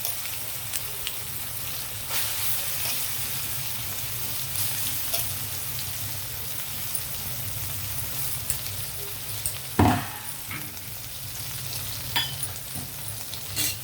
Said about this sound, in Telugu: ఇందులోకి పచ్చడి వేసేద్దాం మనం